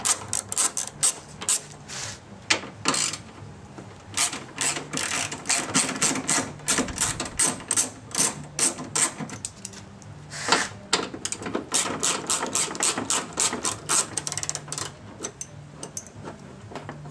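Car headlight mounting bolts being removed with a ratchet, giving dense, fast mechanical clicking in long runs with brief pauses, close and fairly loud, without speech.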